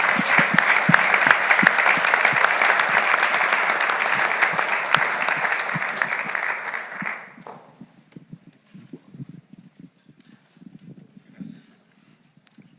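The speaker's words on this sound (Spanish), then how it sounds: "Un aplauso para todos ustedes." Audience applause at a business and community gathering in Monterrey, loud dense clapping from a crowd for about seven seconds before fading out, leaving scattered faint claps and quiet room noise.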